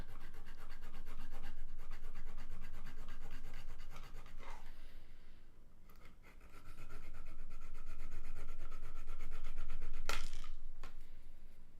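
Plastic model part being cut from a sprue for a Mk3 Techmarine miniature, a steady close rubbing and rasping scrape with a short sharp snap near the end.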